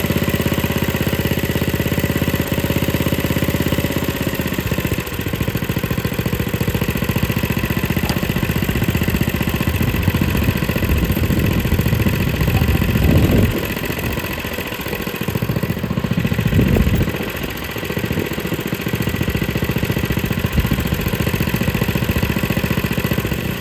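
A 6.5 horsepower engine runs on a 1959-era David Bradley Suburban garden tractor, a loud, steady close-up chugging drone that dips and swells slightly around the middle, continuous for over twenty seconds.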